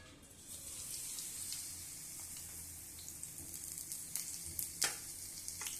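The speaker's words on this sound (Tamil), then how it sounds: "இப்போ எண்ணெய் காஞ்சிருச்சுப்பா, பஜ்ஜி அப்படியே முக்கிய போடுவோம்." Bajji fritters made with karpooravalli (ajwain) leaves fry in hot oil, giving a steady, fairly quiet hiss and sizzle with a few sharper crackles near the end, and no talking.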